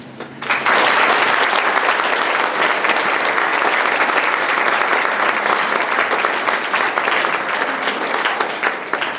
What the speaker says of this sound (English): let's give the whole panel a round of applause